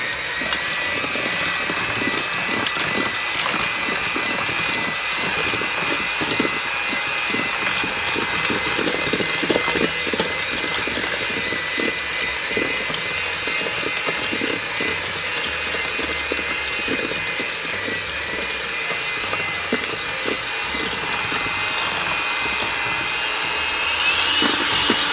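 Electric mixer beating chocolate chip cookie dough, a continuous close motor whine with gritty, uneven churning running steadily throughout, no talking.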